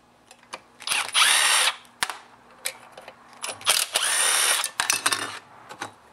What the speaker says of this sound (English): today I'm going to be using my Milwaukee quarter-inch drive impact tool. And I've got the T27 Torx screw bit at the end.